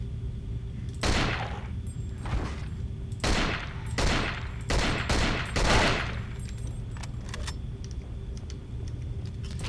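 Gunfire in the survival horror game Cold Fear: several loud, separate bursts of shots spaced a second or so apart over a steady low background hum, with no talking.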